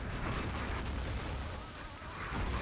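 Artillery shells landing in Battlefield 2 conquest play on the Fiskus Factory map, a faint, distant rumbling roar of explosions that swells and settles across a couple of seconds.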